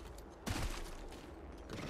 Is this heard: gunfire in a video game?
yes